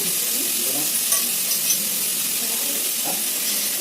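Coconut curry sizzles steadily in ghee in a pan, a continuous bright frying hiss with a few soft stirring scrapes, close and alone with no talking.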